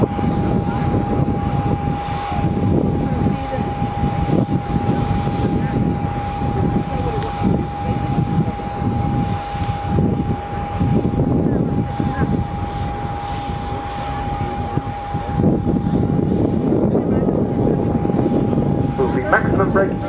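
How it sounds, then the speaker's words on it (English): Military transport aircraft landing at an airshow, its Europrop TP400 turboprop engines in maximum reverse pitch with heavy braking. A loud, sustained roar with a steady whining tone surges and swells for twenty seconds, while a commentator talks over it. "Maximum braking being applied, and also maximum reverse pitch on the propellers for Europrop International TP400 engines"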